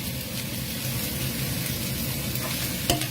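Pork sizzles while being stir-fried in a hot pan, a loud, steady hiss of frying with a faint scrape of stirring near the end.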